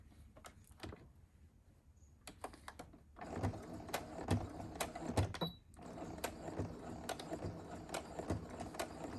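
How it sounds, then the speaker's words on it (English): A sewing machine stitches a fabric face mask, running in quick mechanical bursts with short pauses between, close and fairly quiet, with rapid needle clatter and small clicks. "Once we're done sewing this"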